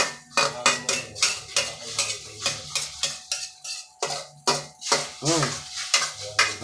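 Eggs cooking in a frying pan are stirred with a utensil, making a rhythmic series of scraping, clinking strokes against the pan about twice per second, with a soft sizzle underneath and brief voice sounds.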